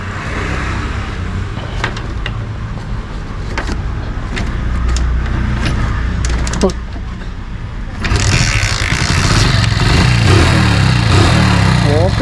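A fifteen-year-old motorcycle engine cranks and then idles steadily nearby, with a louder, rougher running stretch toward the end and people talking over it.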